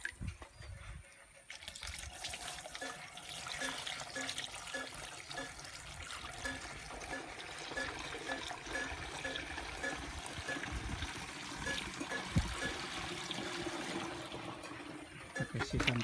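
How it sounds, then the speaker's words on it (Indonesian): Water poured into potting soil while planting garden balsam, a steady close trickling and splashing that runs throughout, with a voice speaking in the background. "sekarang kita kasih air biar campur dia."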